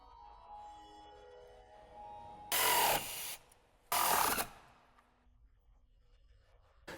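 A 14mm socket tool tightens the steering rack mount bolts on a 2006-2011 Honda Civic in two short, loud, rasping bursts nearby, separated by a brief pause, with quiet workshop background around them.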